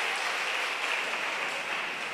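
A church congregation at a Bonne Nouvelle group gathering applauds steadily, a dense, even wash of many hands clapping at once that holds at constant loudness throughout.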